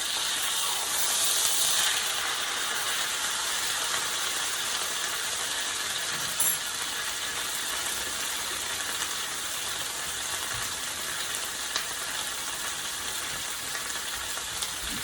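A pot roast sears in a pan on the stove, giving a steady, broad sizzle with scattered pops and crackles that stays fairly constant throughout, and no talking.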